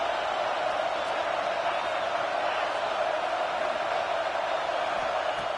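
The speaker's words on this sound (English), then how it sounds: "listen to this crowd noise. This stadium is vibrating" A loud, steady roar from a packed football stadium crowd at a Florida State vs Texas game, a continuous wash of noise with no breaks.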